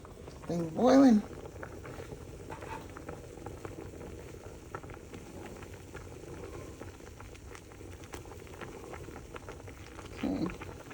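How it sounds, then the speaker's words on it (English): Water at a rolling boil in a kitchen pot, a steady soft bubbling throughout with brief louder bursts near the start and end, heard close and without talk. "Oh wow, thing's boiling."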